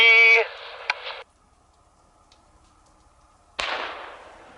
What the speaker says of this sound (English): Go with flare gun test number 2.